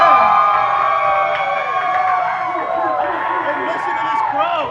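Loud, roaring crowd at a Buffalo Tempest versus Toledo Mobsters APHL round-two playoff hockey game, a steady wall of cheering and yelling close around, with commentary talking over it throughout.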